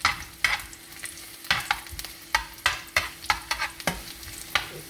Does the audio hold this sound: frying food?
yes